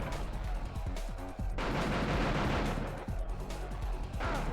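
Rocket launcher blasts in the action game Die Hard Trilogy 2, a series of loud whooshing bursts with a sustained roar between them, interrupted by sharp drops, fairly close.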